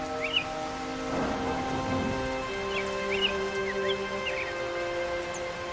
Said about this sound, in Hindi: अरे ये तो बारिश शुरू हो गई।